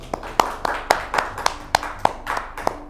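An audience claps to welcome a young guest onto a Hindi podcast stage, a steady, rhythmic run of about ten sharp, evenly spaced claps, close and clear with no talking.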